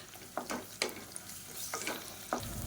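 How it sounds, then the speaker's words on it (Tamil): Ginger garlic paste sizzling and frying in hot oil, with intermittent stirring scrapes from a spoon against the pan, close up and steady. "இஞ்சி பூண்டு பேஸ்ட் நல்லா வதங்கிட்டு இருக்கு."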